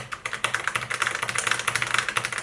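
Steady typing on a Whirlwind FX Element mechanical keyboard with Kailh Red linear switches, a quick run of close, crisp keystrokes with a brisk, even rhythm and no voices.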